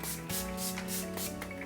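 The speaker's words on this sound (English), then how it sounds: "So this is the Face ATELIER Ultra Matte Spray." Face Atelier Ultra Matte setting spray misted onto a man's face, several short pump bursts of hissing in a quick repeating rhythm, close and quiet.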